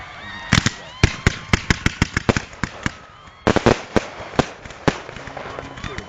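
Fireworks launched at a university art festival, heard up close from the firing position: a rapid series of sharp, loud bangs and thumps over about six seconds, with a brief lull midway, while people talk quietly in the background.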